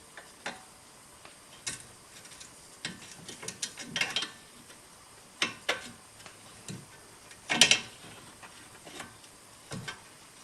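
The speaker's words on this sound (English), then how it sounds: "using your open-ended socket and a Torx wrench, using this alternating fashion, I'm going to go ahead and remove the sway bar end link from the strut" A socket and Torx wrench work loose the sway bar end link on the strut of a BMW E46 all-wheel-drive front end, giving irregular bursts of close metallic ratcheting clicks and ticks separated by short pauses, with no talk.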